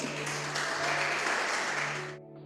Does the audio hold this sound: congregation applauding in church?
yes